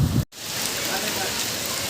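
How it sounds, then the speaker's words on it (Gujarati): Steady rain falls during a Junagadh downpour, a dense broadband hiss of drops striking surfaces that cuts out for a brief moment, then resumes evenly and fairly close. "વરસાદ ધીમો પડી ગયો"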